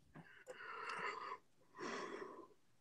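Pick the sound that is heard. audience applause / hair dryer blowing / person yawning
person yawning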